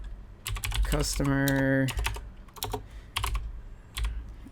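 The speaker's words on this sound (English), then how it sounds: "So if we go back up here and we type in" Keystrokes on a computer keyboard clatter in quick irregular bursts during data entry in Acumatica business software, with a short steady electronic tone partway through and a few spoken words in the background.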